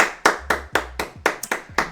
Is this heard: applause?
yes